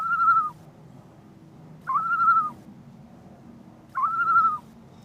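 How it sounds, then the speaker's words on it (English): A Great Northern Diver (loon) gives three wailing, whistle-like calls, each about half a second long and spaced roughly two seconds apart, clear and fairly near over a steady low background hum. "I've got to tell you that this is the call of the Great Northern Diver."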